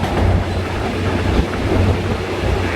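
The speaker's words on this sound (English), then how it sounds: "the train is now running along the tracks of the Red SRT Line" An SRT Red Line commuter train in Bangkok rolls along the tracks, a steady low rumble and rattle heard from inside the carriage, with faint rhythmic wheel clatter and no voices.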